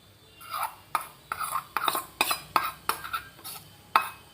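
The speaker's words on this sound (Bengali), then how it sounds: "এবার এটাকে একটা চামচ দিয়ে এবার একটা বাটির মধ্যে ঢেলে নেব।" A metal spoon scrapes and taps against a steel mixer jar and bowl while ground sesame is scooped out, making about a dozen sharp clinks and scrapes in an irregular rhythm, close and clear with no talking.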